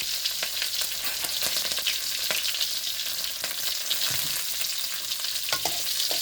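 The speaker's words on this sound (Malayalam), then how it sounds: "അതിനകത്തോട്ട് നമ്മൾ 3-4 വറ്റൽ മുളകും ഇച്ചിരി കറിവേപ്പിലയും" Dried red chillies and curry leaves fry in coconut oil, a steady dense sizzle with crackling pops and spatters, close and loud throughout with no voices.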